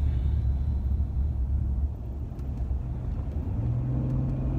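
A car drives along on the way to visit a piece of land, its steady low engine and road rumble continuous throughout with no talk.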